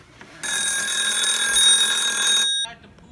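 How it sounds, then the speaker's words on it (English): A rotary phone in a bedroom rings loudly in one continuous bright bell burst of about two seconds, then cuts off, leaving faint background noise. "will my Rotary phone in my bedroom still ring?"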